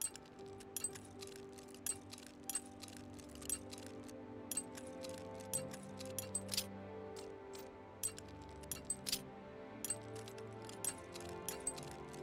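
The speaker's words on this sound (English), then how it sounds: "We've got the arena lockbox with a very hard lock. So let's pick this." An arena lockbox with a very hard lock being picked in Oblivion, giving faint, crisp metallic clinks and ticks at irregular intervals over a quiet, steady background, close and delicate with no talking.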